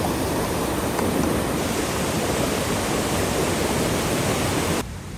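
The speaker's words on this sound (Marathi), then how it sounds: "या नदीला पूर आलेला असतो आणि हा ओसंडून बंधारा वाहत आहे" A rain-swollen village river spills over a weir, giving a loud, steady roar of rushing water that fills the whole stretch without a break and stays close and constant, with no voices.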